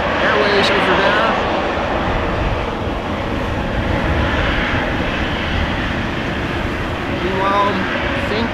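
Airliner engines roaring at Amsterdam Schiphol Airport on a windy day, a steady loud broadband rumble and whine filling the whole stretch, heard outdoors with wind noise.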